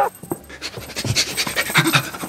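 Close, rapid dog panting, steady rhythmic breaths filling the short stretch with no talking over it.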